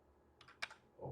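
A computer keyboard being typed on, a few quick, faint key clicks in a short burst while entering a name in PLC programming software.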